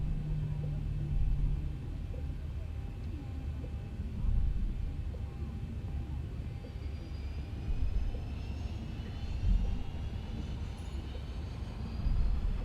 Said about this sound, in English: I definitely hear another plane near us.